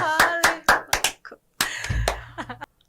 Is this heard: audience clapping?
yes